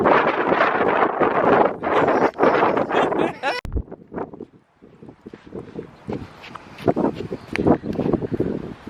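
Gusty wind on a New Zealand shore strewn with seashells buffets the microphone in loud, rumbling bursts, with people talking over it and a brief sharp click partway through.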